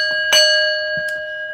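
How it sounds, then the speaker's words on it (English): A single bell struck once, a bright metallic ring with a sustained shimmering tone, close and clear, with a faint knock afterward. "Let's ring the bell."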